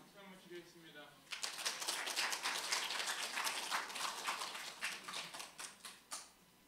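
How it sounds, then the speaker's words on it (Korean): After a brief pause, a small church retreat congregation breaks into steady clapping that carries on for several seconds before thinning out. "박수 한번 드리겠습니다."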